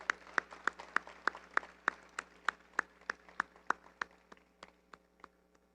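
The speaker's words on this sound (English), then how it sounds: "Round of applause, ladies and gentlemen." Audience clapping at the Tobago Day awards ceremony in 2023, heard as a steady, evenly spaced run of about twenty sharp claps that gradually thins and fades, with no talking.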